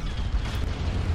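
Machine gun ammunition cooking off inside a damaged mech in a video game, a short, loud muffled blast with heavy low rumble filling the whole moment.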